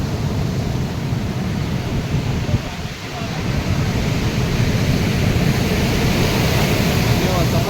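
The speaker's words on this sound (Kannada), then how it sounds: "ನೀವು ನೋಡ್ಬೋದು ಸಮುದ್ರದ ತೆರೆಗಳು ಏನಪ್ಪ ಅಂತಂದ್ರೆ ಭಾಳ ಬಿರುಸಲು ಬರಾಕತ್ತಾವು" Strong sea waves roll in at Baga Beach in Goa. A broad, loud roar and wash of surf carries on throughout, with a brief dip midway and wind buffeting the microphone.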